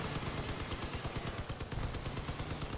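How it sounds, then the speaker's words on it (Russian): Sustained gunfire from an enemy vehicle in the Crossout game: a dense, loud, rapid stream of shots that hammers steadily without a break. "Стреляет он в меня."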